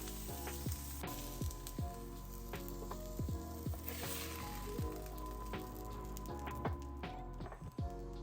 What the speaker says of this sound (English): Make sure the pan is hot. That way it sizzle, it crisps the top